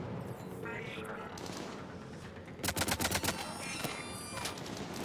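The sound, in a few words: sniper gunfire in the video game Mass Effect 3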